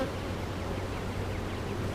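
Steady, dense drone of honey bees buzzing at a calm hive, continuous and fairly close with no voices.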